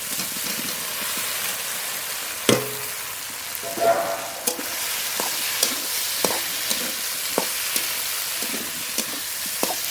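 Fried beans and potatoes are stirred with spices in a pan. A soft continuous sizzle runs underneath while a utensil scrapes and knocks against the pan in irregular strokes, close and moderately loud.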